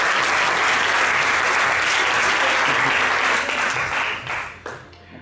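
Loud crowd applause at a self-defense demonstration covering baton and Krav Maga, a thick sustained clapping that holds steady before tapering off and fading out in the final second.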